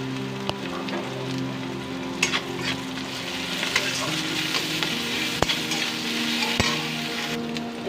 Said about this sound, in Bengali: এরপর আমি এর আদা রসুনের পেস্ট দেবো।